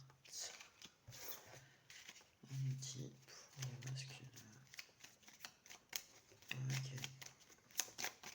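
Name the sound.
cards being shuffled for a card reading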